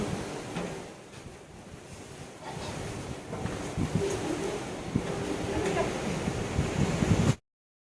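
Strong wind blows hard outdoors, a continuous rushing roar with gusty surges that builds louder over several seconds before cutting off abruptly.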